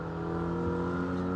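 Black Falcon Team Bilstein race car numbered 503 running in the background at a Nürburgring NLS endurance race, a steady loud engine drone with strong harmonic tones and no speech.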